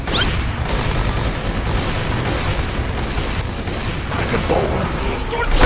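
Gunfire in the Minecraft WarZ game during a crowded town fight, a dense, loud wash of overlapping shots and blasts rolling on continuously with no clear gaps.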